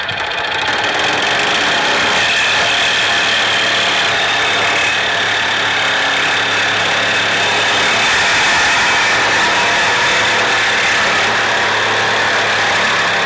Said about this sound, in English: This tool here, this 18-volt Sawzall, is awesome.